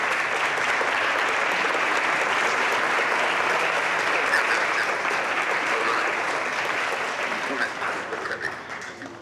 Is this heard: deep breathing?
no